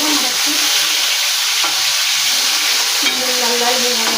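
Fish pieces fry in a pan of hot oil, giving a steady close crackling sizzle throughout, with a faint clink of a turned piece partway through.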